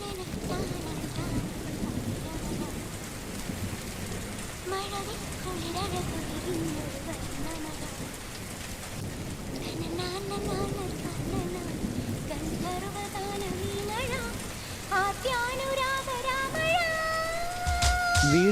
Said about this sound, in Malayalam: ഈ കനത്ത ചൂടിലും മഴ പെയ്യുന്നത് കാണാം